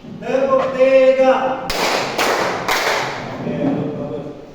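A class claps three times in unison, three sharp evenly spaced group claps with a roomy tail, right after a teacher's spoken instruction.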